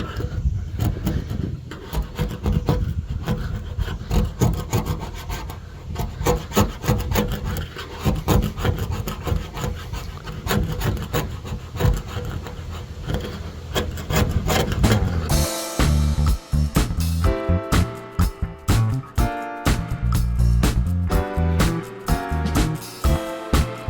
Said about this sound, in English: Just got to get rid of this leftover paint here